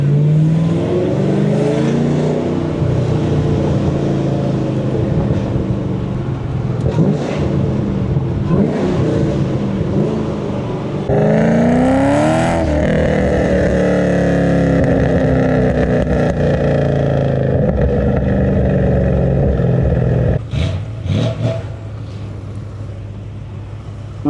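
A 650-horsepower Camaro ZL1 V8 roars loudly through Miami streets, revving and accelerating with rising and falling engine pitch, heavy and close throughout, easing off near the end.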